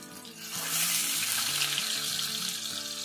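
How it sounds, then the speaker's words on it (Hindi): Potato seekh kababs sizzle steadily in oil over a low flame, a dense continuous frying hiss that swells slightly and holds at a moderate, close level with no talk. "और इन कबाब को ना बिल्कुल हल्की आंच पे फ्राई करना है।"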